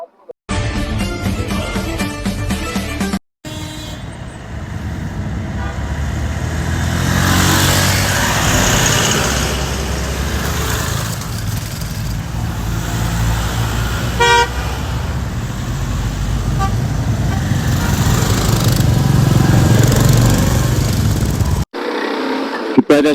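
Several Royal Enfield motorcycles and other bikes, seven in all, pull away together from a hotel on a Ladakh ride, engines revving and a horn tooting amid steady road noise, with people talking over it.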